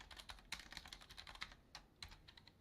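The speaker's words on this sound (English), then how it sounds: "I'm going to go and do the typing before the typing" Fingers tap steadily on a computer keyboard, a quick, uneven run of soft clicks with brief pauses, heard close but quiet with no talking.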